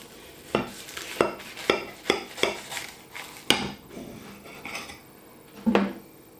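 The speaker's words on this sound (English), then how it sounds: "Now, I'm dying to cut this pie open." A knife cuts open a steak and ale pie on a plate: a close run of sharp taps and scrapes as the blade pushes through the crust and clicks against the dish, with no voices.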